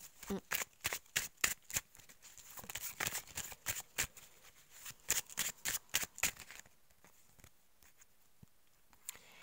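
Tarot cards are shuffled by hand in quick, rhythmic riffles, a close and crisp series of flicks that thins out toward the end, with a soft voice talking under it.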